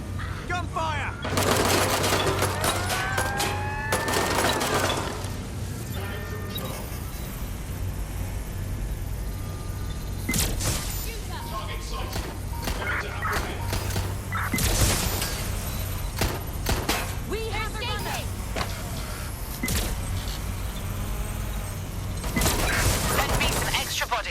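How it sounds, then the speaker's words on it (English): Bursts of gunfire ring out during a firefight in the video game Watch Dogs Legion, sharp cracks in scattered clusters over a constant low hum and shifting game sounds. "Gunfire!"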